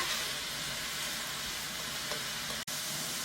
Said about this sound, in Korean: 살살 볶아서 간이 베이도록 하면 되겠습니다